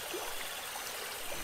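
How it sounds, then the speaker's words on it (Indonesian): A gently trickling stream flows beside a waterfall, a soft, steady babble of running water heard alone and fairly faint throughout. "Dengan mata terpejam, Hengki menikmati alunan suara gemericik"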